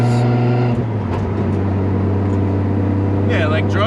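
A Nissan R32 GTR with a straight-cut dogbox runs loud and close, its engine note holding a steady drone before a shift changes the pitch midway, with faint whine near the end.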